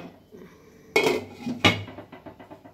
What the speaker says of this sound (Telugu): మూత పెట్టుకోండి.